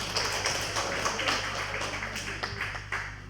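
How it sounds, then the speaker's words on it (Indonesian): A seminar audience at a capital market investment event claps together in a steady, dense patter of applause lasting a few seconds, heard from inside the hall at moderate volume. "Tepuk tangan."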